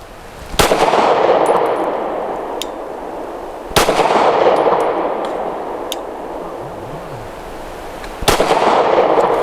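Three loud, sharp Stoeger STR 9C compact 9mm pistol shots ring out at spaced intervals, each followed by a long, booming echo that slowly fades, fired outdoors with no one speaking.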